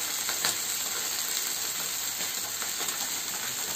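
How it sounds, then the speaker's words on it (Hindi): Papda fish pieces fry in a pan over a high gas flame after being turned to the second side. The oil gives a dense, even sizzle and hiss throughout, close and unbroken, with no talk. "सारे फिश को मैंने कर दिया है इसे दूसरी साइड से भी फ्राई, और हाई फ्लेम में है"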